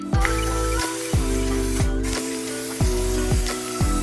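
Repeated short hisses of aerosol cooking spray onto a warm cast iron pan, five quick bursts at a regular pace, close up with a sizzling edge.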